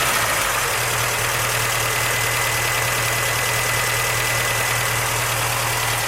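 A warm Triumph TR4 engine idles steadily, a constant low rumble with a faint hum and no talking.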